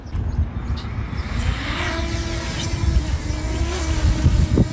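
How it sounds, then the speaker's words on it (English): A DJI Mini 2 SE drone auto-takes off with a steady high-pitched propeller whine over broadband rushing noise, close and continuous throughout. "It has like an auto takeoff feature, so we're gonna just use that real quick."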